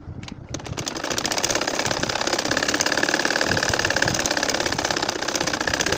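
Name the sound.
sewing machine stitching a nakshi kantha quilt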